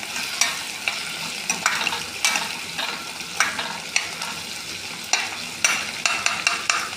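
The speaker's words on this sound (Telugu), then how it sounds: "మనం పులుసులో వేస్తున్నాం కాబట్టి బాగా వేగాలి, ఎక్కువ టైం తీసుకోవాలి." Curry leaves and onions fry in oil for potato pulusu, giving a continuous close sizzle broken by repeated sharp scraping stirs at an uneven rhythm, with no talk.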